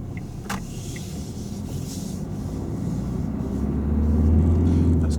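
Car turning during a driving lesson, its engine and road rumble rising steadily from inside the cabin, with a brief click early on and no talk.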